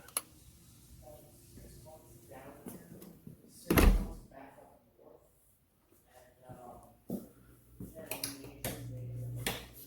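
A door opening out to the pool area of a home, heard as a sharp knock or latch click partway through among quieter handling noises, with a voice talking over much of it.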